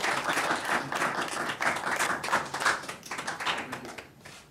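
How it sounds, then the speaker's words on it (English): A conference audience applauds the morning's speakers, dense crowd clapping that holds steady and fairly loud, then thins and fades toward the end, with no talking over it. "If you could please join me in giving these guys a round of applause for a great introduction this morning."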